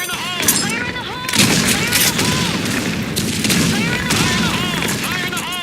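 Booming explosions and scattered gunfire fill a chaotic video game battle on the Sand Storm 2 map, with a grenade blast bursting through continuous shooting and layered combat effects.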